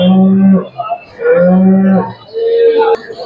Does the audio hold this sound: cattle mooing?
yes